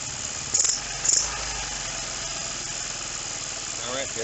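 A Roketa 150cc engine runs close by at a steady idle-like drone, with two short throttle blips early on and faint background noise.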